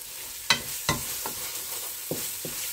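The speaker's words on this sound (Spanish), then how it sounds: "Así que simplemente lo mezclo." A spoon stirs fried tomato into a hake sauce in a pan, with several distinct scraping knocks of the spoon at irregular intervals over a low, quiet sizzle and no talk.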